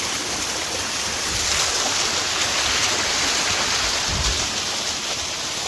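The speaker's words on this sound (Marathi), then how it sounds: "इकडून तर खूप जो जास्त जोराची धार येत आहे" Steady, loud rushing water fills the whole clip, a dense broadband roar like a fast, strong-flowing mountain stream close by on the Kedarnath trek route, with no voices.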